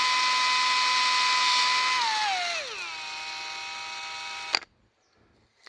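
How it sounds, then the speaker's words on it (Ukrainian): A GRAND ДА-21UBL/PRO cordless screwdriver drills a small 1 mm hole, its motor whining steadily and then dropping in pitch as the bit bites in, before cutting off abruptly into near silence. "І ми зараз спробуємо, припустимо, повертіти отут."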